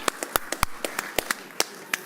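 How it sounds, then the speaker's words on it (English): Scattered, irregular claps from a small audience at a live cooking stage demonstration for a chef on Potato Day, a dozen or so sharp hand claps spread over about two seconds, fairly close and thin rather than a full ovation. "Hey, big round of applause for Chef Varga."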